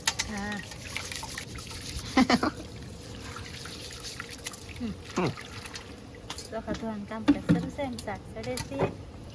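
Water sloshes and trickles as rice is rinsed by hand, with intermittent splashes and someone talking over it.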